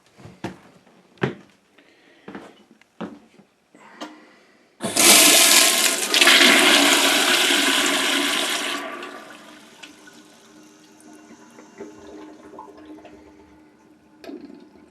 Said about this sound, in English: we can flush our toilet still.